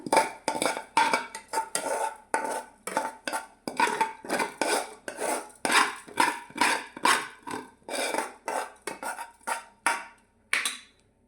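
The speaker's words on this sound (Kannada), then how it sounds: "ಕುಕ್ಕರ್ ಒಳಗೆ ಹಾಕ್ಕೊಂಡು ನೀವು ಬೇಕಂದ್ರೆ ಕುಕ್ಕರ್ ಒಳಗನ ಇದನ್ನು ಹುರ್ಕೋಬೋದು" Rice being roasted and stirred inside a pressure cooker: steady, rhythmic metallic scraping and clinking strokes, close up, repeating about twice a second with no talk.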